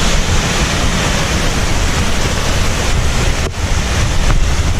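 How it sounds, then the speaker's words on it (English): A large hidden waterfall in the wild roars in a loud, steady rush of water, continuous throughout with no voices. "Can you hear that, guys? It's a waterfall"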